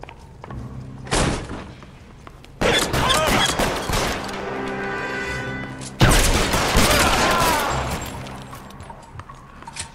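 Gunfire in the LA Noire video game: several loud, close bursts of shots and booming impacts with ringing echoes between them, separated by brief quieter gaps.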